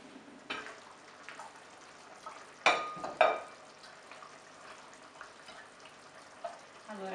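Mortadella rolls go into simmering tomato sauce, giving a soft bubbling sizzle with a couple of louder splashy clatters midway as the rolls are set in the pan; a brief voice is heard near the end.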